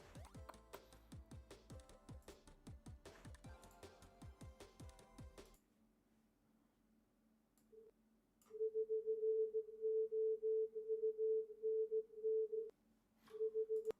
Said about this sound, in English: Restro has isolated the Morse code, so this is what you could hear.